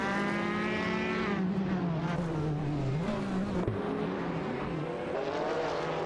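Racing-game cars, including a Ferrari F40 Competition and a Mazda RX-7 IMSA GTO, roaring continuously at high revs with rising and falling engine pitch as they accelerate and shift, loud and sustained with no talk.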